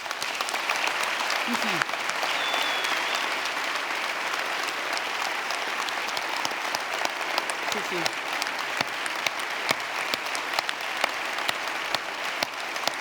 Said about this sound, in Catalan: L'aplaudiment més llarg de la nit per la gent pels pagesos, per les mans.